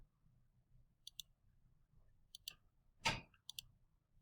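Sparse key clicks on a computer keyboard, a few isolated taps and one louder burst of clicking against a quiet low room hum, with no talking.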